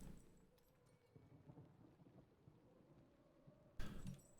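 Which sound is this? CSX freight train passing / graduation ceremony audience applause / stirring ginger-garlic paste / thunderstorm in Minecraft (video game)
thunderstorm in Minecraft (video game)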